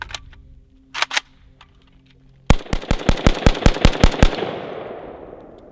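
An AK47 rifle, a VSKA, fired left-handed during an endurance test: a couple of isolated sharp shots, a pause, then a rapid string of about ten loud, close gunshots in quick rhythm with ringing decay.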